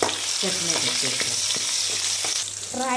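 Garlic, bay leaf and tirphal tempering in hot oil give a loud, steady sizzle throughout, with a few stirring clinks and a brief tonal sound near the end.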